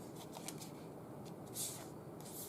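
Tarot cards shuffled and drawn from a deck, a quiet, close papery riffling and sliding with a few light flicks, no talk.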